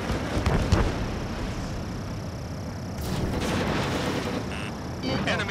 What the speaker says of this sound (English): missile fired